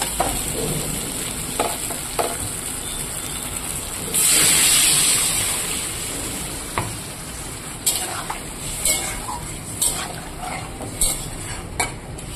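Water poured into spice paste frying in a pan sets off a loud hiss and sizzle around four seconds, followed by steady frying with scattered clinks and scrapes of stirring, close and without talk.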